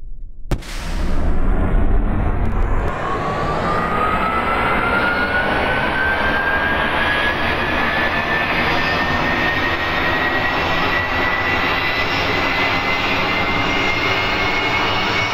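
Aircraft engine spooling up in the game Kerbal Space Program, a loud sustained roar with a rising whine that climbs in pitch and then holds steady, heard alone without voices.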